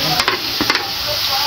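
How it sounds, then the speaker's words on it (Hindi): Tomatoes and bitter gourd sizzle steadily in a hot pan, close up, while a spoon scrapes and stirs them in a few quick strokes. "थोड़ा सा इनको साइडों में कर लेते हैं कि ये भी साथ साथ फ्राई होते रहे"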